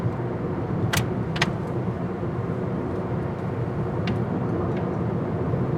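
A car cruises along a road in Phetchabun, Thailand, with steady, even interior road rumble and tire noise throughout, broken by a few brief faint clicks and rattles, without talk.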